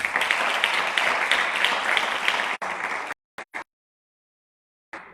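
A live audience at a cultural heritage conference session in San Bartolomé de Tirajana bursts into steady applause, dense clapping for about two and a half seconds, then broken bursts that fade out, with a final short spatter of claps.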